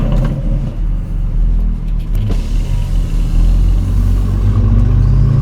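A car engine with a misfire runs loud and close, a rough uneven rumble that surges and builds toward the end, with no voices over it.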